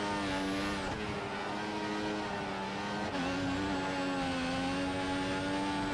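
A Formula 1 car in the F1 2014 video game at Japan qualifying howls at high revs, with two gear changes briefly dropping the pitch before it climbs again, loud and continuous with no talk.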